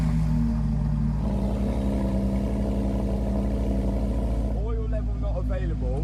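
A car engine runs steadily after starting, a low constant drone revved up to check for leaks, with someone talking over it and a brief rise in pitch near the end.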